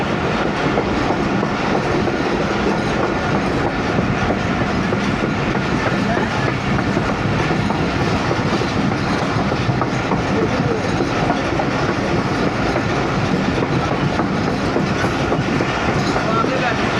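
A coal-carrying freight train rumbles past up close at a Pakistani railway station, wheels clacking steadily over the rail joints in a continuous heavy roar that holds for the whole stretch.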